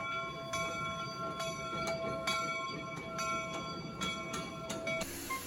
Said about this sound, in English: everybody wanted to see the trains going back and forth across the location of the Golden Spike